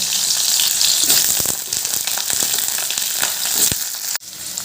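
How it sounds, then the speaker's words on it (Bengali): Cut potato pieces hit hot oil in a wok, a loud continuous frying hiss with crackles and occasional sharp pops, ending in a brief clatter near the end. "সেই তেলের মধ্যে দিয়ে দিচ্ছি টুকরো করে কেটে রাখা আলু"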